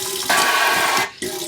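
A low-flow galley faucet with a spray nozzle on a Jeanneau 440 sailboat runs water in a steady hiss, close and fairly loud, cutting off briefly before flowing again.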